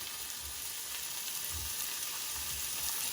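Mushrooms sizzle in butter and oil in a pan, giving a loud, steady, close-up hiss throughout with no talking.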